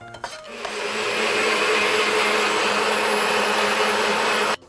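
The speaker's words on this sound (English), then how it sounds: "We'll blend this to a coarse paste" An electric blender grinds an onion mixture into a coarse paste: a loud, steady motor whir that starts after a brief clatter and runs continuously, then cuts off abruptly at the end.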